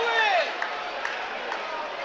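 A crowd of Bradford Bulls rugby league supporters roars at a match against York Knights, with a shrill whistle-like cry rising over the general stadium noise.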